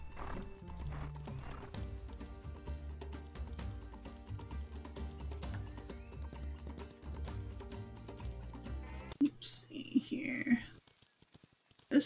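Horses in the video game The Ranch of Rivershine neigh and whinny over clopping hooves amid steady background noise, with a few sharper sounds toward the end.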